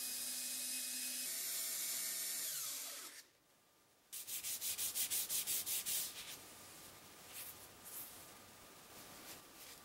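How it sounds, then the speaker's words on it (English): A wooden knob is hand sanded in close, brisk strokes: a rapid burst of rhythmic rubbing after a short pause, then a few lighter, scattered passes, with no talk. "Nothing left now but some sanding, and thankfully it's pretty easy to do."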